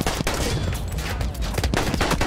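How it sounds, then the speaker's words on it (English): Rapid bursts of gunfire from a Battlefield 1 multiplayer battle, dense overlapping shots and a fusillade of automatic fire, loud and continuous with no talk. "someone is firing"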